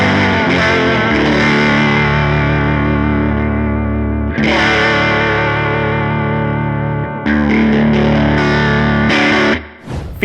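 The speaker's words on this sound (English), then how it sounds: "the vibrato sounds pretty cool. I actually like it, especially with like more open chords" An electric guitar through a Donner Mod Square II vibrato pedal plays clean, open chords, three sustained, wavering strums that ring out loudly and alone.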